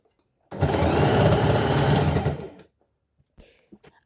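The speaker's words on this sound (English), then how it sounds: "Here I'm sewing the underlay" A sewing machine stitches the underlay fabric for a corset back loop in one steady, close, whirring run of about two seconds, then stops, followed by a few faint handling clicks.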